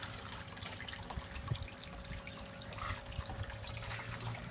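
Water trickles steadily in a solar-powered IBC tote aquaponics system outdoors, a continuous close dribble under a constant electrical hum from the pump, with no talking.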